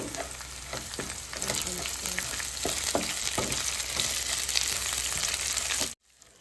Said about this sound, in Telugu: ఇప్పుడు బాగా ఫ్రై చేసుకొని ఇందులోనే ఒక రెమ్మ కరివేపాకుని వేసుకుందాం